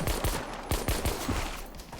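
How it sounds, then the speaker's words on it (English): Rapid M9 gunfire in the Active Matter shooter game, a quick string of sharp, close shots with a couple of pauses over continuous battle noise, no talking. "Everybody shooting at me, the mobs are coming. I can deal a lot of damage with the M9."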